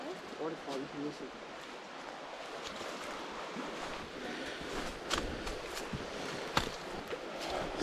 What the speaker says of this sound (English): Waterfall, you can listen.